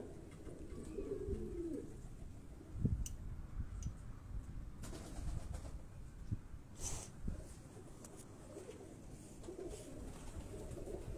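A pigeon coos softly nearby in repeated low, throaty phrases, with faint rustling and a few sharp background clicks and knocks in between.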